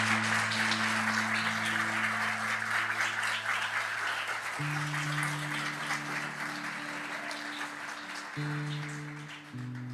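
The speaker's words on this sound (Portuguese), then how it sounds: "Dê uma salva de palmas aí para Jesus." Church congregation applauding during a Sunday evening celebration service, a dense sustained wash of clapping lasting throughout, with sustained organ or keyboard chords underneath.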